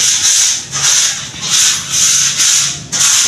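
Steady back-and-forth sanding strokes rasp against a surface in a regular rhythm, close and fairly loud, with no voices.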